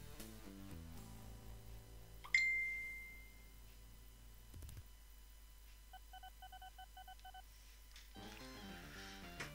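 A mobile phone chimes with a notification over game background music on a PC: a sharp ding, then a short run of rapid beeping tones before the music swells back.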